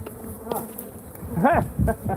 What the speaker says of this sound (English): So the remnant bees are balling up there